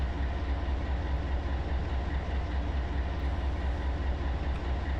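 A container freight train rolls through California from Barstow in the Run 8 Train Simulator game, a steady, even low rumble with a broad wash of rolling noise and no clear clicks or voices.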